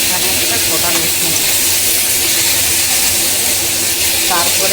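Fish seasoned with turmeric frying in hot oil: a loud, steady sizzling hiss that fills the whole stretch without letting up.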